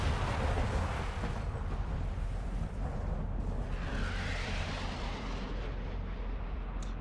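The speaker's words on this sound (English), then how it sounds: "I couldn't hear you over the large explosion that I caused." A large explosion in the video game Homeworld: Deserts of Kharak, heard as a loud, sustained low rumble filling the whole stretch with no voices over it.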